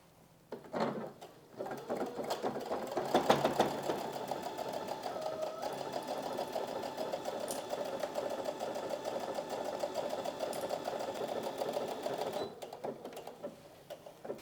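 A sewing machine stitching a straight double seam on a fabric fruit and vegetable bag, a close steady mechanical hum with rapid needle clatter running continuously after a short start.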